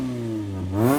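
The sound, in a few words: modded Mini Clubman engine revving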